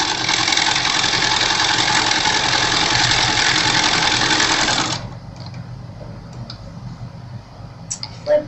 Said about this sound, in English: I'm just going to sew right along those dark lines.